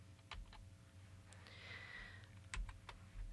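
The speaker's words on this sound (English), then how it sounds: "I'm going to click on my return key, making sure that I'm in my code view when I do so" Computer keyboard in a quiet room, a few faint separate key clicks including a return key press, sharp and close but soft overall.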